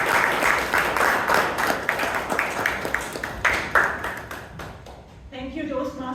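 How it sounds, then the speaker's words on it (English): Applause for a Toastmasters club president as she is welcomed at a club meeting, moderately loud and uneven, fading out near the end as a few tonal sounds come through. "we wish her continued success with a big round of applause"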